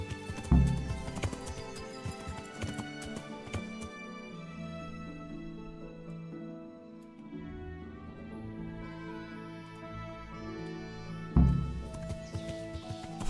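Horse hooves clip-clop in the medieval role-playing game Kingdom Come: Deliverance, a steady rhythmic trot mixed with in-game music, with a few louder bursts near the start and end.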